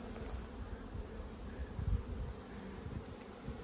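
Honey bees hum around a hive entrance, a dense, continuous buzz of many insects close by, steady and low without any voices.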